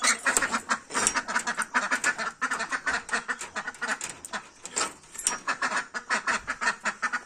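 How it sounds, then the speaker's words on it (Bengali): Ducks kept at a rural Bengali home quack loudly and repeatedly as they are let out, a dense, close chorus of overlapping calls in quick rhythmic bursts with no talking. "আর এখন হাঁসগুলোকে খুলে দেবো।"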